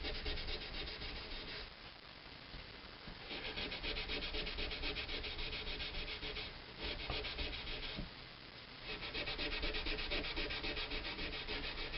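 Fine-grit sandpaper polishes the crowns of the frets on a Schecter Hellraiser electric guitar, giving a steady, close scratchy rubbing with back-and-forth strokes and brief pauses in between, and no voices.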